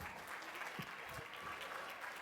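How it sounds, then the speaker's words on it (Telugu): Audience applause at an Ugadi cultural celebration stage event as trophies are presented, a steady wash of clapping filling the whole moment with a few louder claps standing out. "గట్టిగా చప్పట్లు."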